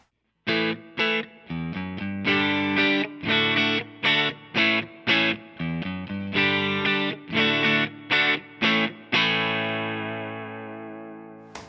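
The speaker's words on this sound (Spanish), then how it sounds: "Recuerden que el primero es un emulador de cabina de la Stomp." Distorted electric guitar run through a Stomp's built-in cabinet emulator with no impulse response, playing a series of choppy chords and short riffs before ending on one long ringing chord that fades out, loud and alone.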